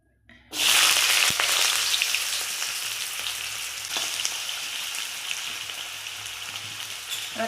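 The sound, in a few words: potatoes frying in hot oil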